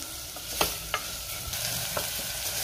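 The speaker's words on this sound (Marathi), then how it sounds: "आता आपण टोमॅटो घालूया आणि टोमॅटो सुद्धा मी 1 मिनिटभर परतून घेणार आहे" Tomatoes stir-fry in a pan with a constant sizzle, cut by several sharp scrapes and knocks as a spatula stirs them, at close range.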